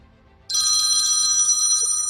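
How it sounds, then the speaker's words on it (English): A telephone ringtone starts abruptly and rings loud and steady with a bright electronic trill, continuing without pause. "a phone call for you. Yeah, somebody answer it, please."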